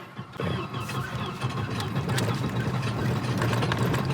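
An old Volvo 240 engine catches and runs roughly as gas is applied, a close, rumbling mid-low drone that swells slightly and holds steady with uneven, struggling texture.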